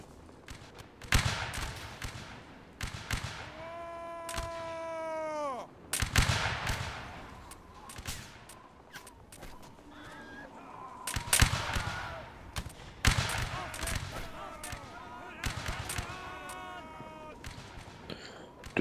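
Musket volleys ring out in the Napoleonic Wars video game, with repeated loud ragged bursts of gunfire from a battle line, some in quick ripples, mixed with shouted voices and a horn-like call.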